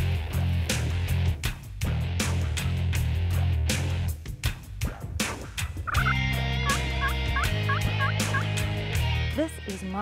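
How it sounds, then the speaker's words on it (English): A wild turkey gobbler gobbles in an open field, giving loud repeated rattling gobbles in bursts, with a hunting-video music track playing under and over them. "there was a gobbler out in the middle of the field"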